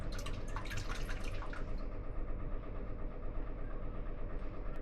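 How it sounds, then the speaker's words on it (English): Lye solution trickles slowly into an oil mixture during homemade soap making, a soft, continuous pouring and dripping sound that stays steady throughout, with no talking. "here we add it again really slowly into the oil mixture"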